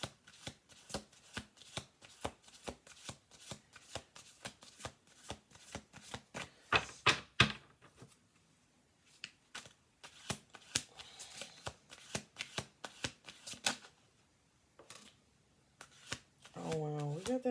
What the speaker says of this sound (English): I'm going to do 2 more shuffle throughs.